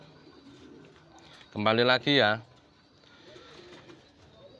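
Homing pigeons coo softly in the background, with a brief louder burst of sound midway as someone speaks close by.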